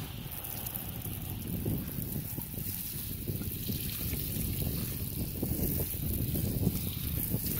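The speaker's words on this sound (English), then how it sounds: "go ahead and spray this with some water so y'all can see." Water sprayed onto a ceramic-coated car wheel, a steady hiss and splatter running continuously at moderate level with no talk.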